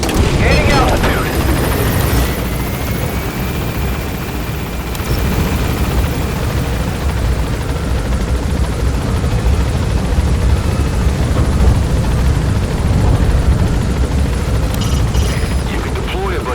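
In Metal Gear Solid V, a helicopter climbs with a dense, steady rotor and engine roar that fills the whole stretch, loud and close, with some faint game noises layered in.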